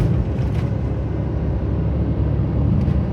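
Honda Z UM4 turbo kei car engine while driving, a loud, steady, dense rumbling drone with road noise, continuous and unbroken throughout.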